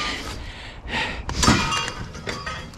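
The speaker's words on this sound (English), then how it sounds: "I am bound to break that glass for sure." Metal pipe is dumped into an open-top dumpster, with glass breaking amid several sharp crashes and clinks that peak in one loud shattering impact before rattling debris settles.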